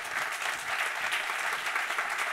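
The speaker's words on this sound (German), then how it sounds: "Sie können gleich klatschen, wenn die einzeln kommen." A conference audience applauds award nominees, with steady, even clapping from a moderately distant crowd continuing throughout without pause.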